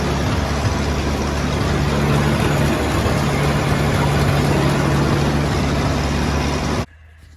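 A Massey 35 SP combine engine drives the threshing mechanism in a loud, steady mechanical drone with a low throb, then cuts off abruptly into near silence just before the end.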